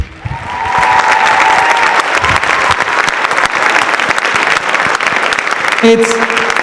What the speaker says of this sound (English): Can you give them one more round of applause, please?